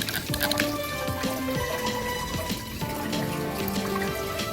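Water splashes and trickles over a large agate stone, with wet squishing and dripping sounds close by that fade into scattered drips.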